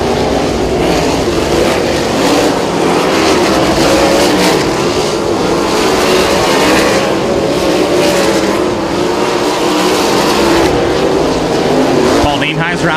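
Sprint car engines cranking up for hot laps at Kokomo Speedway, a loud, dense, continuous roar of several race engines revving together, with an announcer talking over it.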